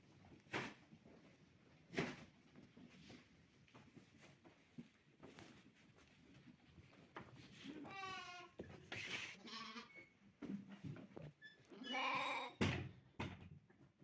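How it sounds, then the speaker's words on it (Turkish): Pregnant ewes and lambs on a farm bleat while they are separated, with several loud, wavering calls from close by, scattered knocks and rattles of a gate or pen between them, and a quieter livestock background throughout. "Şimdi kuzuları ayıracağız."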